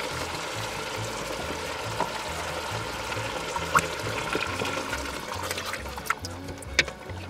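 Passata tomatoes poured from a carton into a Dutch oven in a kitchen, a steady wet stream running for several seconds with a few small knocks and clicks along the way.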